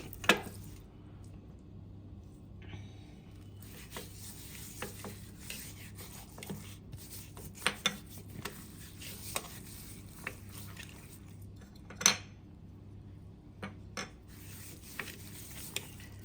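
Meat being stirred with dry spices in a pot gives soft scraping, rubbing and occasional light clinks against the metal, quiet and close over a low steady hum, with no talk.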